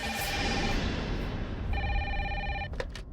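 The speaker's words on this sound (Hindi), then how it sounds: "कैसा फोन है, फिर भी बज रही है" Telephone ringing, an official landlord line in a police-station scene from a Hindi TV comedy: repeated electronic ring bursts, a pause, then rings again before cutting off, fairly loud over a busy room background.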